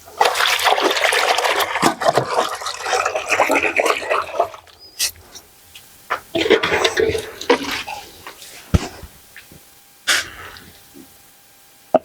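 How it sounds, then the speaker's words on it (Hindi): Clothes washed by hand in water, with bursts of splashing and sloshing separated by quiet gaps and sharp knocks, close and moderately loud. "पहले एक कपड़ा अपने तरीके से धो के दिखाइएगा, फिर नॉर्मल तरीके से हम धो के दिखाएंगे।"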